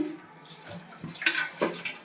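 Water is poured over dried anchovies to rinse them, giving a short, soft splashing and trickling sound that comes close up and in uneven bursts.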